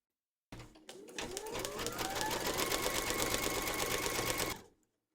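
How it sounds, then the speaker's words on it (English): An embroidery machine stitches the second round of a teddy appliqué in a hoop, giving a fast, steady mechanical chatter with rising motor tones that runs for about four seconds and then stops. "Pop your hoop into your machine and stitch round number 2 to secure it."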